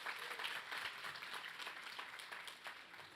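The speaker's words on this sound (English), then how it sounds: "We can give her another round of applause," Soft applause rises from a church service audience, a steady, moderately faint patter of many hands with no speech over it.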